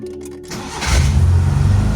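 A Mitsubishi Lancer engine with its fuel pump relay removed cranks briefly, then catches and fires into a loud, steady idle right up close.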